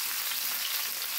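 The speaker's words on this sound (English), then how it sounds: "add it to your skillet and just stir fry it" Seasoned zucchini, squash, onions and peppers sizzle steadily while being stir-fried in a skillet, a soft, even hiss without voices.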